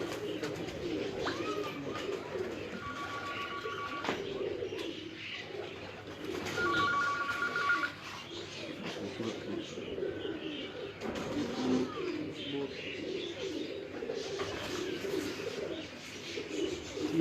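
Pigeons on an Islamabad rooftop give soft, repeated low cooing throughout, mixed with brief chirps and a couple of short electronic tones, while distant voices murmur in the background.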